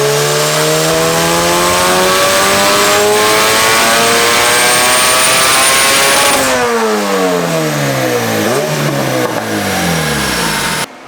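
Turbocharged car engine accelerating hard through a full pull, loud and close, with harmonics sweeping steadily upward for about six seconds, then a shift and a second climbing rev that stumbles briefly before rising again.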